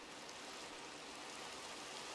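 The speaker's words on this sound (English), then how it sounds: "Still raining." Steady rain falls in the video game Minecraft, a soft, even broadband hiss that stays constant and fairly quiet throughout, with no talking over it.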